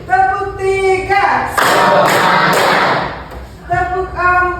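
A classroom of students claps out a short rhythmic pattern as a burst of dense, loud hand slaps, with a teacher's voice calling out just before and after.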